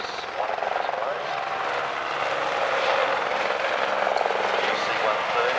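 A Huey helicopter flies at the Warbirds over Wanaka airshow in New Zealand, its rotor a steady, loud wash with a rhythmic beat. An announcer talks over it through a public address system.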